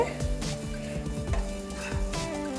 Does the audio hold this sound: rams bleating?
no